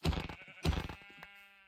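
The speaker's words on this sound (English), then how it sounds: "We've got some sheep, which is absolutely perfect." Sheep bleating in the Minecraft video game, two loud wavering bleats in quick succession followed by a fading tail, with no talk over them.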